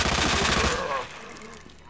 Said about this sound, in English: Oop, I just shot his leg off.